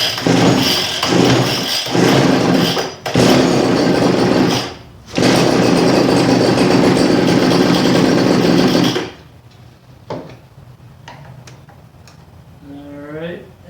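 Weed Eater 940 leaf blower, a small two-stroke engine, running loud and steady with two brief cutouts before dying away, followed by quieter clicks and a short voice.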